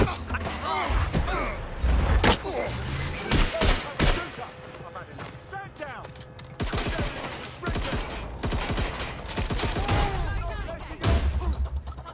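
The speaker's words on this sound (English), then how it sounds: "Suspect hit! They're shooting!" Dense gunfire in the video game Watch Dogs Legion: rapid bursts and single shots crackle almost without pause, mixed with heavy thuds and shouted voices over a busy background.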